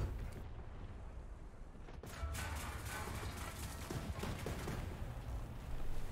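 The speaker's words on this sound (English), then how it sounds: "he finishes me off with his top autocannon" Tank autocannon fire in War Thunder: a dense, continuous rattling roar of rapid shots that kicks in after a quieter opening and keeps going to the end, with no talking.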